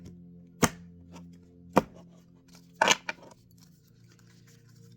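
A few sharp knife chops on a cutting board, three distinct strokes spaced about a second apart against a faint steady hum, with no talking.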